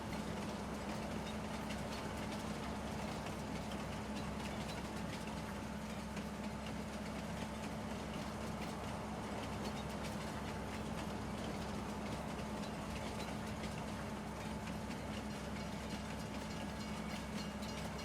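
A Farming Simulator 19 train rolls along its rails with a continuous low rumble and steady engine drone, faint and unbroken from start to finish.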